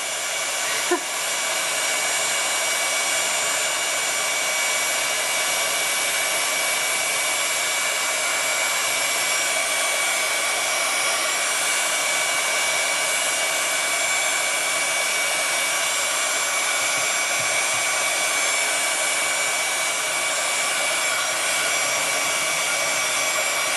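A heat tool for card making blows hot air in one continuous, loud, steady whoosh, close by and unbroken from start to finish, with no voices over it.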